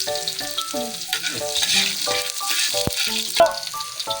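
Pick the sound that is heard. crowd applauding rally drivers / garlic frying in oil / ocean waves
garlic frying in oil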